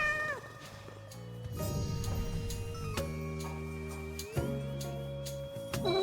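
A cat meows repeatedly in the video game Hades II, clear and close, over a steady layer of game music and ticking tones.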